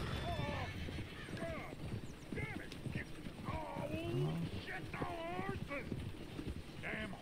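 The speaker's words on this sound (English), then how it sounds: "Is one of you gonna get that fella's horse?" Horse hooves clip-clop in a Red Dead Redemption 2 western town, with neighs and whinnies mixed in and voices chatting over them throughout.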